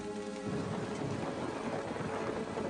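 Heavy rain hiss from a thunderstorm in a documentary sound effect, with a low rumble fading at the start and steady downpour noise throughout.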